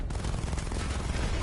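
Dense rapid gunfire from a weapon in Batman: Arkham Knight, a loud, continuous rattling burst lasting about a second and a half.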